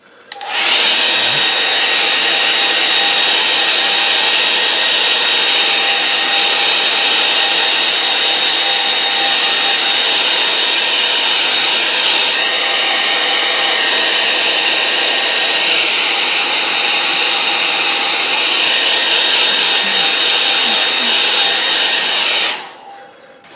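A hair dryer blows steadily on a watercolour painting of an autumn evening, a loud continuous whir that runs unbroken for about twenty-two seconds and then cuts off. No one speaks while it runs.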